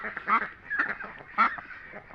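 Ducks at a farm selling ducklings and grown ducks quack in several loud, nasal, overlapping bursts, close by, with no talk over them.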